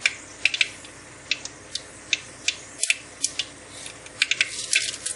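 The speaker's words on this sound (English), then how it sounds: "Once the mustard seeds start to splutter" Mustard seeds spluttering in oil on high heat, sharp crackling pops that come scattered at first and then in quicker bunches, close and crisp over quiet background hiss, with no voices.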